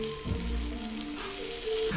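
A steady, even sizzle of an egg frying in a pan for a homemade Country McGriddle, continuous and close with no voices.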